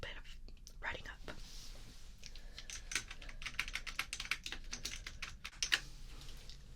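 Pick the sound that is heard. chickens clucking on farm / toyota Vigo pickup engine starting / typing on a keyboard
typing on a keyboard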